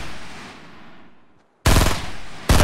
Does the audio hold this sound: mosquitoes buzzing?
no